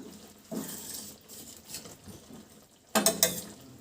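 A spoon stirs beans gojju curry with fresh coriander leaves in a pot, giving soft scraping and occasional metal clinks, with a louder, busier burst of clattering stirring near the end. No voices.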